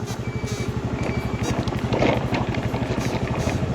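A motorcycle engine runs steadily and close by on a slippery grass path, its rapid pulsing exhaust note continuous throughout with a brief surge in the middle.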